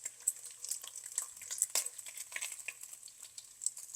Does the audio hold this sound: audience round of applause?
no